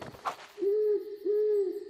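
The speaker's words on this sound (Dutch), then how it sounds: "Dat geluid komt van een uil." An owl hoots twice in a Dutch-dubbed PAW Patrol cartoon, each a steady, drawn-out tone lasting about a third of a second, clear and close, with no talk over it.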